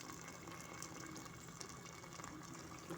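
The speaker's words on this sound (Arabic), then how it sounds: "ونمرق بالماء سخون عادي" Hot water poured into a cooking pot of stuffed vegetables with peas for a traditional Algerian dolma, a continuous faint gush and trickle of liquid heard alone at low level throughout.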